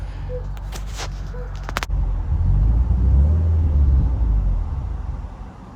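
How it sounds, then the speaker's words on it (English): A Subaru Legacy Spec B engine that will not hold idle, with a low rumbling idle that surges and then fades out as it dies, after a few brief clicks. "you'll see the car would no longer start and hold idle. It would keep dying."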